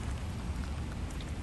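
Steady rain falling at night in New York, a dense even wash of drops lasting the whole short stretch, with no voices.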